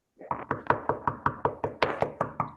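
Hard knocking on a door in a staged performance of Romeo and Juliet, Act III Scene 3: about a dozen heavy, evenly spaced raps in a steady insistent rhythm, loud and close, with no voices.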